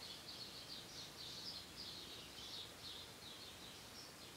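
Soft, repeated high chirps from a small bird or two, fairly quiet and distant over a steady background hiss, with no talking.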